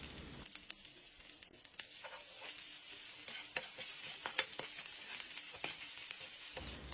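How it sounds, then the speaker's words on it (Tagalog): Sliced ginger sautéing in hot cooking oil in a pan, the first aromatic for a bagoong-braised milkfish belly dish. It gives a steady close sizzle with sharp crackles and stirring scrapes and continues throughout, with no talking. "Magpainit na tayo dito ng mantika. Unahin na natin ang luya."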